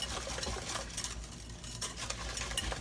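Sugar, eggs, vanilla and cinnamon being stirred together in a bowl for Krispy Kreme doughnut bread pudding, a steady close scraping and swishing that carries on alone throughout.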